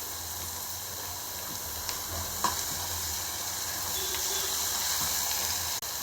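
Onions and dried fish fry in a pan for an egg and dried-fish curry, giving a steady, close sizzle and hiss with a few soft clinks of stirring and no talk.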